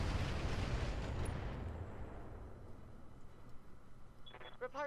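A heavy explosion roars at the start of the mech combat game Roguetech and slowly fades into a low rumble, followed by a few short electronic tones near the end.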